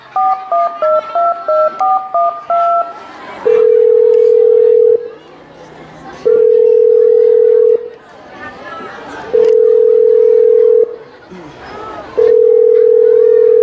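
A telephone call is placed, opening with a quick run of touch-tone dialing beeps followed by a steady ringback tone that repeats in long, loud pulses, with people talking in the gaps between them.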